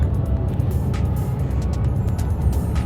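A Mercedes-Benz GLC 300 pulls away and drives on, giving a steady, even low rumble of engine and road noise with no voices.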